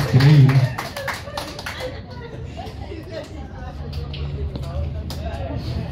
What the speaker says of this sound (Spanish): ¡Y los aplausos! ¡Las palmas!